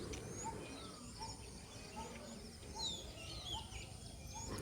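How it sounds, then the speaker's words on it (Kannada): Faint birds chirp and tweet intermittently against a steady background hum, scattered morning calls from a distance heard from a rooftop terrace, with no one speaking. "full bird sound ಕೇಳ್ತಿರುತ್ತೆ"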